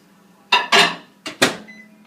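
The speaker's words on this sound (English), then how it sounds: "you take it and let them microwave for 3 minutes until they're completely melted" A microwave oven heating chocolate and butterscotch chips: four short, crisp electronic bursts in two quick pairs, close and clear against a low steady hum.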